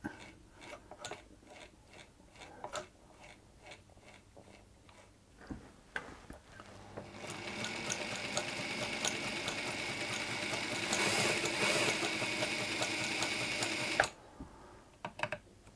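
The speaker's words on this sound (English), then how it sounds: "Right, let's see how this goes now. Just give it a turn over manually there to start with." A mint green Australian-made Singer sewing machine is first cranked by hand in slow ticking clicks, then runs steadily at speed with a whirring, rattling stitching hum before stopping abruptly.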